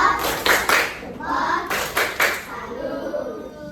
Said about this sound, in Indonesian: Berikan dia tepuk salut